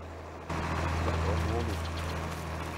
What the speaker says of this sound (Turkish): şu ufak traktör çok bağırıyor ya